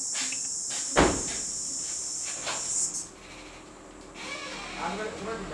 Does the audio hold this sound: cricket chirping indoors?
yes